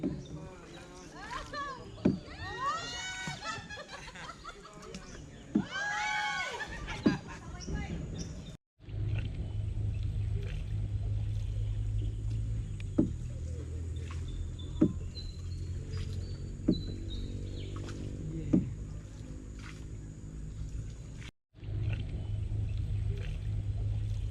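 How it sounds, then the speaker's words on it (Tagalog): A boat motors along the Maasin River on Siargao Island, its steady low engine drone running continuously under loud, close conversation. "Sasakay tayo ng bangka."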